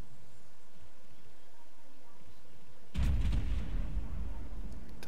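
Battleship main guns fire in the naval combat game World of Warships, a sudden heavy boom breaking a low engine and water rumble midway and then rolling on loud.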